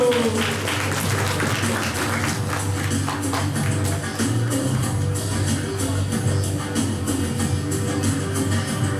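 Audience applause at a school entrance ceremony for new students, steady clapping sustained for several seconds under a low background hum.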